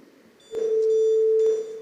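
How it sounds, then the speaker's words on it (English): A single steady electronic tone from a quiz-competition answer buzzer sounds loudly for about a second during a school quiz final, starting and stopping with sharp clicks over a quiet room. "from the buzzers from all the 3 schools"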